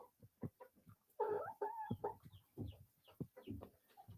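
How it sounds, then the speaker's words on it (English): Gothic-breed chickens cluck and murmur nearby in a farmyard coop, a run of soft, irregular clucks with a couple of louder squawking calls, no talking. "And he came with the gothic chickens."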